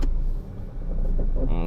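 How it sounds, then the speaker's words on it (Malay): A car reverses slowly into a parking space between two other cars, its low engine rumble running steadily underneath a person talking close by. "Okey, so saya akan parking di antara dua kereta tu."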